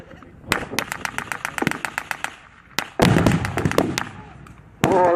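Rapid bursts of blank small-arms and machine-gun fire crack out at a World War 2 battle reenactment, with quick rhythmic volleys followed by heavier, louder reports from nearby firing positions.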